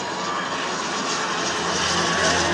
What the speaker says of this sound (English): It's a big plane.